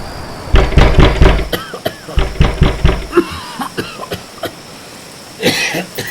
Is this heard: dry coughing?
yes